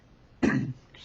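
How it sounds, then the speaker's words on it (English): A single short cough with throat clearing, close and fairly loud against a quiet room, lasting about a third of a second. "if I cough a little bit or my throat gets scratchy"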